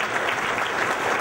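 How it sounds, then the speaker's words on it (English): An audience at a restaurant opening claps for an award presentation, a steady, close burst of applause with many hands at once. "please give them a generous round of applause and also Hamza will present the award."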